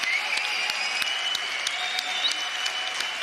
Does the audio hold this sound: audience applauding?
yes